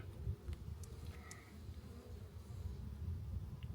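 Italian honeybees hum low and steady at the hive in Izmir summer heat, a faint continuous drone with a few brief higher buzzes of single bees passing close.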